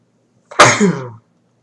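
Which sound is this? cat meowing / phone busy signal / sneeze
sneeze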